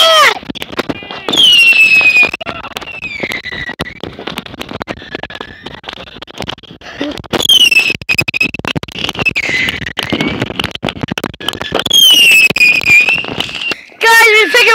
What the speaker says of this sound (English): Guys, we pick up our fireworks. I'm down here blazing now.